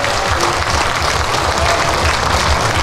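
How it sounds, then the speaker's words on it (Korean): A crowd at the main stage of the 2024 Eumseong Pumba festival claps steadily during a pumba performance, a dense, even wash of applause filling the space. "박수 한번 주시고요"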